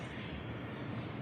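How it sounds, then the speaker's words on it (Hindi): A car engine idling just after being started, heard as a steady, continuous low rumble with an even level throughout and no voices. "हमने स्टार्ट कर दिया गाड़ी को। गाड़ी की आवाज़ आ रही है,"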